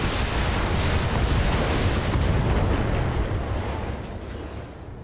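Mech weapons firing in the BattleTech video game, a dense, rumbling barrage of booms and impacts that stays loud and continuous before slowly tapering off, with no talk over it.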